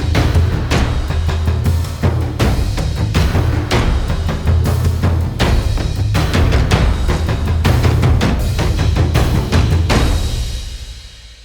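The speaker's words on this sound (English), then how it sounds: "7 top secrets for writing epic cinematic percussion like this" Epic cinematic percussion music plays loud and dense, with heavy booming drums and layered hits pounding steadily before the mix fades out at the end.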